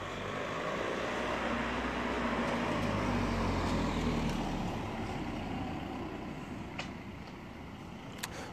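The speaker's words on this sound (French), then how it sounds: "il y a des voitures qui passent de temps en temps" A car passes nearby in an outdoor parking lot, its engine swelling to a broad low roar and then fading away, with a faint click or two afterward.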